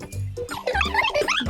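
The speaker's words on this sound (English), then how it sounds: "That's a dog barking." A dog gives a quick run of close, clear barks and yips in rapid succession, loud and alone with no talking.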